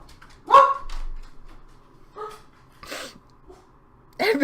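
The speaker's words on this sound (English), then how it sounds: "Shush, dog." A dog gives four separate barks and yips, spaced irregularly with quiet gaps between them, fairly close.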